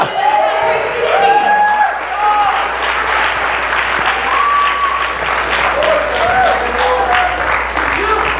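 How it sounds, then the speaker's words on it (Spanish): A congregation claps and cheers loudly together, with enthusiastic shouts and voices rising over the steady applause. "alguien den un aplauso al rey."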